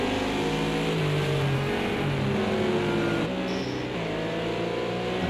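Porsche GT3 race cars in a Le Mans Bugatti Circuit sim race, several engines droning and rising in pitch as they approach, a loud continuous layered roar with shifting tones.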